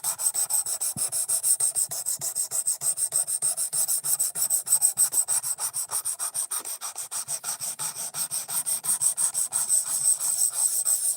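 An Ozark Trail axis lock knife blade is drawn across a sharpening stone in steady, rapid back-and-forth rasping strokes, close and continuous with no voices.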